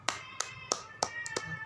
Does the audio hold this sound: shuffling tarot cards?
no